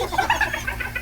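A chicken clucks several times in quick succession, close and clear, in a short burst lasting about a second.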